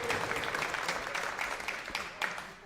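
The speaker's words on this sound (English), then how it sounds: "Listen to that crowd." A darts crowd applauding a won leg at a live finals night, sustained clapping and cheering from a large audience, loud and close with a commentator talking over it.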